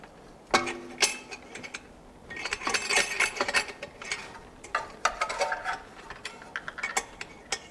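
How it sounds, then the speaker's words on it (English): A V-band clamp on a BMW downpipe is worked loose, giving a series of close metallic clinks, clicks and scraping rattles in uneven bursts against a quiet background. "Now we're gonna separate the clamp, and the downpipe should just release."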